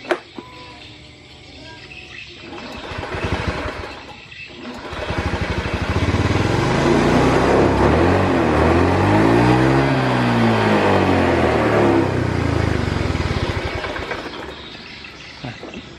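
A Honda Beat FI scooter engine, fuel-injected and sputtering, starts and runs close by, its steady idle swelling as the throttle rises and then settling back down. No one talks.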